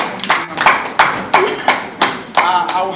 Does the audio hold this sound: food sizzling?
no